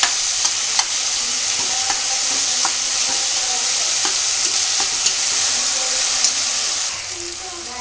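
Coriander, ginger and garlic paste fries loudly in a pan for hotel-style veg pulao, a dense, continuous close sizzle with faint stirring ticks, easing slightly near the end.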